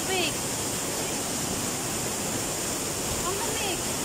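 Cold stream water rushing at Wang Chung Stream in Tai Po, a loud continuous broadband roar with faint chirp-like sounds at the start and near the end.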